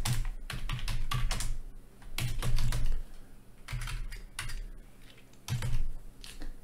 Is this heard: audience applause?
no